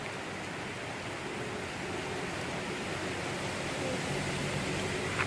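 Heavy rain pours down in a constant, dense roar of broadband noise, loud and unbroken from start to finish.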